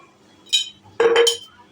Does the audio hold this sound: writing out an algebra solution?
no